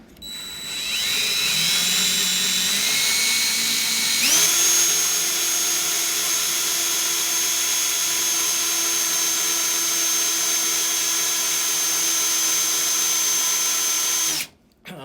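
Power tool spinning a 223 brass cartridge case pressed firmly to strip tarnish, a steady high-pitched whine that shifts pitch as pressure is applied, runs loud for about ten seconds, then cuts off abruptly.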